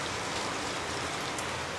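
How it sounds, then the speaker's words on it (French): Heavy rain pours outside in a dense, steady hiss with no break, loud and close throughout. "il pleut comme c'est pas permis"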